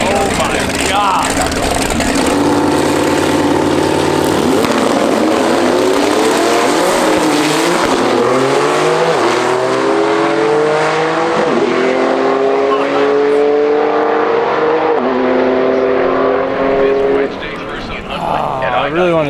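Porsche racing down a drag strip, its engine roaring loud and close through rising gear sweeps for most of the run, with a crowd and voices chattering underneath.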